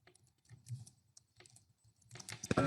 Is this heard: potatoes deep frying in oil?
no